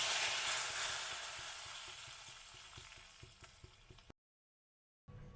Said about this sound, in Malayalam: ഇനി കറിയിലേക്ക് നമുക്ക് തയ്യാറാക്കി വെച്ചിരിക്കുന്ന കടുക് താളിച്ച് ചേർത്ത് കൊടുക്കാം